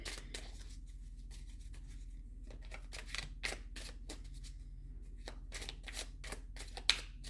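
Tarot cards being shuffled and drawn, a run of quick close riffling and snapping card sounds in short bursts over a low steady hum.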